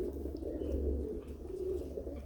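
Pigeons cooing softly inside a loft, a low steady murmur under a faint background hum.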